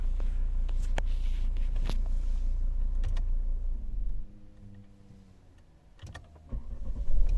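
A 2011 Volvo V70 2.0 D4 diesel with automatic gearbox starts and idles nearby, a strong low rumble with sharp clicks and door or mechanism knocks, then a dip and a brief whirring before the engine note returns.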